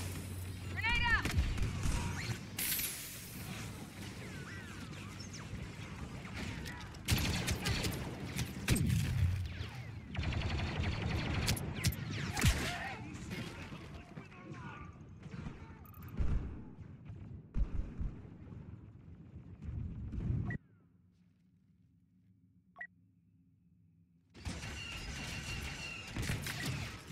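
A grenade is thrown and explodes in a video game firefight, heard as loud bursts and crashes among continuous gunfire and clatter, with a brief quiet dip before the action resumes.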